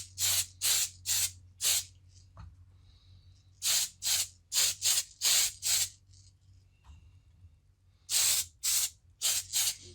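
Black spray paint hisses onto the interior of a car chassis in a series of short, close, even bursts separated by brief pauses. No one speaks.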